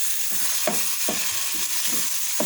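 Cabbage roll filling sautéing in a pan, a steady close sizzle with a few soft stirring scrapes and knocks at intervals, no voices.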